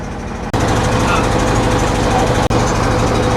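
Loud, steady engine drone from a boat at sea off Kuakata beach, a continuous low rumble that holds unbroken for most of the stretch, with a brief dropout near the start and another midway.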